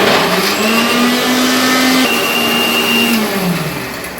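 A mixer grinder grinds green cardamom and spices in a home kitchen, a loud, steady motor whine that holds for about three seconds and then winds down toward the end.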